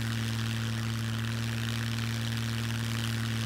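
Propeller airplane engine in steady flight over an island in the survival game Scum, a loud continuous droning hum with no talk.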